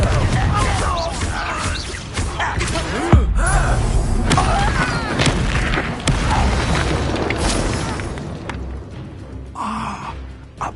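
A Confringo fire spell bursts in Hogwarts Legacy combat with one sharp booming blast partway through, set among ongoing battle noise, effects and voices.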